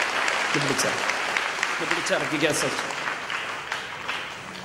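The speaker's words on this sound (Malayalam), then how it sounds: "കൈയടിച്ച് ഈശോയ്ക്ക്" A congregation applauds at a Divine Mercy Congress prayer gathering, a steady patter of many hands clapping close by while a voice carries over the clapping.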